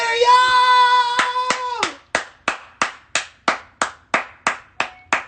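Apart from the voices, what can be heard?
audience clapping and cheering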